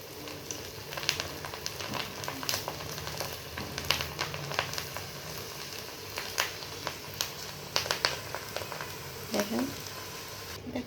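Raw potato chips crackle and sizzle in hot oil, a steady low hiss with scattered sharp pops and spits throughout, fairly quiet and heard alone.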